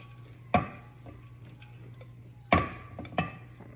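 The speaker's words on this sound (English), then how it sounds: "I'm going to push it into the bottom of the pan." Rice Krispies mixture for scotcheroo bars is pressed into the bottom of a pan, giving three short scraping clunks of utensil against pan spaced apart in a quiet room.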